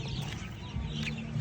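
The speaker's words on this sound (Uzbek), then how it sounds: "Jo'ja kelibdi mahallaga." Chicks being sold in a neighborhood cheep faintly in quick, high little peeps over a constant low background hum.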